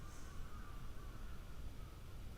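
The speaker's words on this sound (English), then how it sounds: "I can hear the crows outside" Crows caw faintly in the distance outdoors, their calls drawn out over a steady background hiss.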